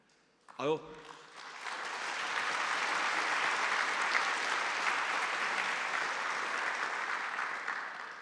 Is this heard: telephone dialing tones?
no